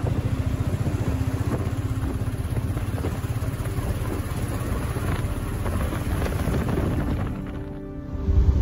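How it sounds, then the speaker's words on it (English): Royal Enfield Bullet motorcycle cruising on a village highway tour, with a steady, continuous low engine rumble and road noise throughout, loud and close, easing briefly near the end before picking up again. "My village visit on my Royal Enfield motorcycle highway tour."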